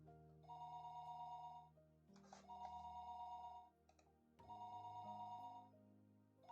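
A telephone rings in the Higurashi video game, three long electronic trilling rings separated by short pauses, clear and steady.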